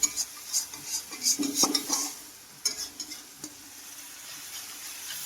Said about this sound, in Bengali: ভালো করে কষিয়ে নেব মশলাটাকে সুন্দর করে ভেজে নেব